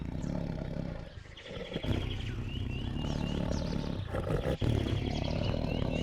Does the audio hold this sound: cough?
no